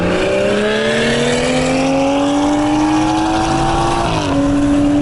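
A loud Kia Stinger engine revs and climbs steadily in pitch as it accelerates hard, close by, with a brief shift dip near the end.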